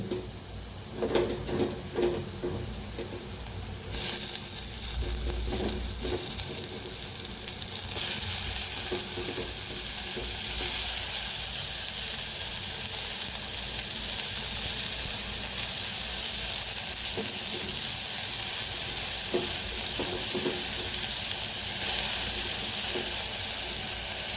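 Golden-browned onion and added tomato fry in a pan for a ridge gourd curry, a loud continuous sizzle and hiss with occasional scraping stirs near the start.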